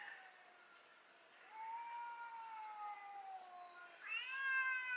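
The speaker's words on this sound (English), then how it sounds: "fighting cats sound" Cats yowl in long, drawn-out tones during a fight, rising and falling, with a louder wavering yowl near the end, fairly close against a quiet background.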